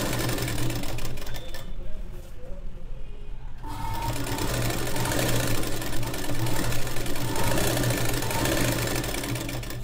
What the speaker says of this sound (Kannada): ಹಿಂಗೆ ನೀಟಾಗಿ ಫುಲ್ಲು ಬಾರ್ಡರನ್ನು ಹೊಲ್ಕೊಂಬಿಡಿ